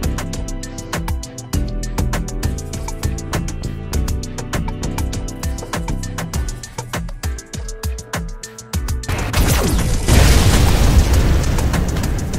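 Rapid gunfire from a Minecraft guns mod, with repeated sharp shots in quick succession that build to a dense, loud burst of explosions near the end. No talking is heard.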